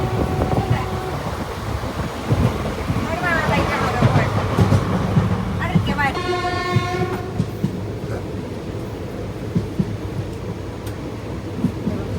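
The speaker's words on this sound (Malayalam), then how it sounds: "അപ്പോൾ ഒരു ട്രെയിൻ വന്നു" A train arrives at a station, rumbling steadily along with rail clatter, and a horn blares partway through, loud and close over background noise.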